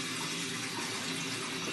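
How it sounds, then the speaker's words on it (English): A bathroom tap runs steadily, filling a basin that has just been unblocked, a close, continuous gush of water with no talk. "put on the tap again. And you want to fill the tap up, and you want to fill the sink up"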